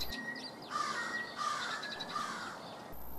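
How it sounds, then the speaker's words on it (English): A crow caws several times in quick succession in a quiet, snowy winter setting, the harsh calls fairly close against soft background hiss. "A crow finds a frozen meal that catches its interest."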